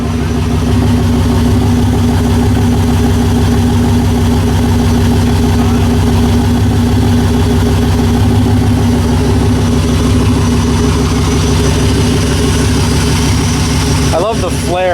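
A turbocharged LS engine in a burnout truck idles loudly and steadily with a rough, throbbing rumble up close, the revs lifting briefly at the very end.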